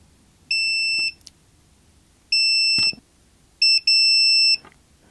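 A multimeter on a continuity test across the pins of a Macintosh SE's ADB connector gives three loud, clear electronic beeps of varying length, the last one broken into a brief double, separated by quiet pauses.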